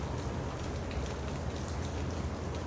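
Steady, dense rain falls on surfaces in a continuous even hiss, close and enveloping, with no gaps or voices.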